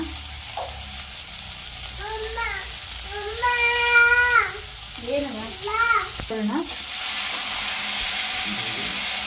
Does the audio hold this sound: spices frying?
yes